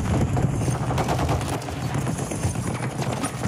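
Rapid akimbo TYR pistol fire in Modern Warfare 3, a dense, continuous stream of close, loud shots with thumping low-end impacts packed tightly together for several seconds, no pauses in between.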